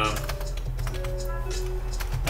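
Rapid, close clicks of a computer keyboard patter in irregular bursts while someone writes game code in GameMaker Studio 2, with someone talking quietly over the typing.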